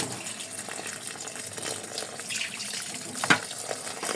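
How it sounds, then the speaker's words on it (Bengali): Cold tap water runs steadily over boiled pasta noodles in a sink, a continuous moderate splashing flow with one brief sharper splash near the end and no talking. "এটা আমি ঠান্ডা পানি দিয়ে করে নেব।"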